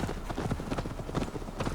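Horse hooves clip-clopping in Assassin's Creed Valhalla, a steady galloping rhythm of many close, repeated thuds running the whole time.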